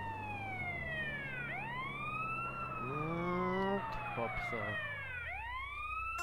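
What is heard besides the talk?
ambulance siren in video game GTA San Andreas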